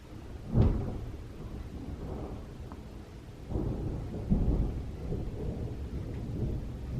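Thunder booms and rolls during a storm, with one sharp crack early and a long low rumble later, over a steady wash of heavy rain.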